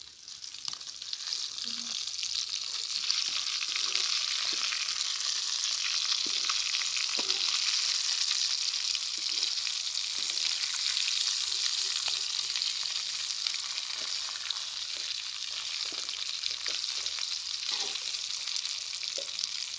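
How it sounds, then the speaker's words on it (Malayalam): Tilapia fish frying in hot oil makes a continuous, dense crackling sizzle that holds steady for about twenty seconds, with faint occasional knocks and no talking. "നമ്മുടെ മീൻ നന്നായിട്ട് വറുത്തിട്ടുണ്ട്, ഫ്രൈ ആയിട്ടുണ്ട്."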